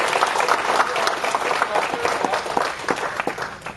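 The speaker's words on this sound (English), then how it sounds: "A round of applause" A conference audience at a Joomla Day event in Malaysia gives a dense, loud round of applause, many hands clapping together steadily for several seconds.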